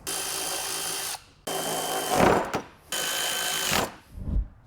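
A power tool whirs in bursts while driving bolts into a sway bar disconnect actuator for a Jeep Rubicon, with three sustained runs of motor whine, bolt-seating grinding between them, and no talking.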